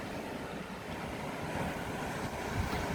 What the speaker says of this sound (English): churning along with the waves